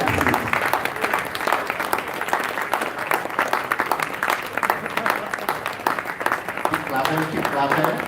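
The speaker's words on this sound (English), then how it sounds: "Let's give a big hand of applause for our esteemed panelists." Sustained applause from an audience at a university health forum welcoming the panelists, a dense steady wash of many hands clapping throughout, with voices faintly underneath.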